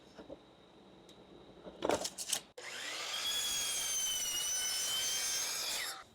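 A power saw bites into wood in a home workshop during a van build, with a few brief scraping knocks before a steady, loud whining cut that runs for about three seconds and then stops.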